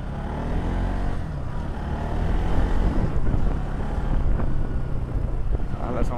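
A Bajaj Pulsar NS200 motorcycle is ridden, its engine droning continuously under heavy wind buffeting on the microphone, with a steady, loud rumble throughout.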